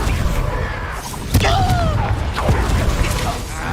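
Confringo spell blast in the video game Hogwarts Legacy, a sharp single impact near the start followed by a whooshing streak and crackle, set against constant loud game ambience and combat noise.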